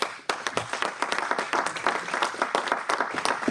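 Church congregation applauding during a sermon: dense, sustained clapping from many hands, fairly loud and continuous throughout, with no talk over it.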